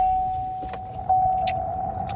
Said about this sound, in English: I'm going to turn on my car.